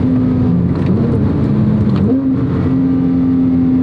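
A Porsche 997 GT3 with a lighter flywheel, its engine revving under throttle, gives a loud close drone that dips and climbs in pitch as revs change, a steady mechanical tone with no talk over it.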